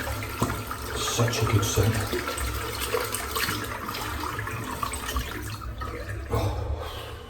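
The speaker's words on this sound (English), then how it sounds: "let's rinse this soap out" Steady hot water runs continuously while soap is rinsed off in a shower, a broad hiss filling the whole span, with a person speaking briefly over it.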